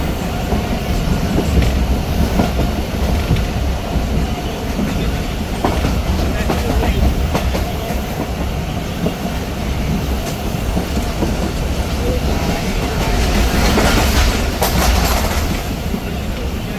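The 102dn Subak Raftar railcar runs loud and continuous on its tracks, wheels rumbling with a clickety-clack rhythm and occasional squeals, heard from on board with no one speaking.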